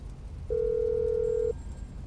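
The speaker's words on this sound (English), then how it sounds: "You can call Mutt and ask him to resupply." A phone in a GTA game dials out, giving one steady electronic tone that holds for about a second over low background noise, with no speech.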